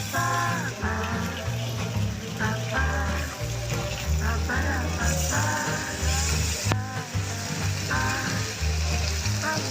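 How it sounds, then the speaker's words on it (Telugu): Fish pieces frying in hot oil produce a continuous crackling sizzle, with background music or tonal sounds layered over it. "చేపలు మంచిగా ఫ్రై చేసుకోవాలి సార్"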